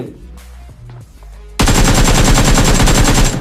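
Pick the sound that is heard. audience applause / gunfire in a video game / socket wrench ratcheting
gunfire in a video game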